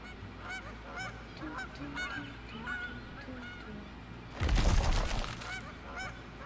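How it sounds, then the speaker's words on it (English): Ducks in the Townsmen village-building game honk repeatedly in a busy chorus, with a louder crunching burst partway through. "Quiet, ducks."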